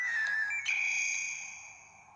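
A phone rings with an incoming call, a bright electronic tone shifting pitch partway through and fading out over about two seconds.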